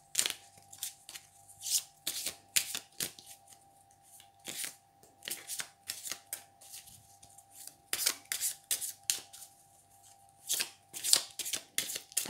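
A deck of tarot cards being shuffled by hand, close and crisp, with repeated quick riffling bursts and soft taps in an uneven rhythm, separated by short pauses, without any voices.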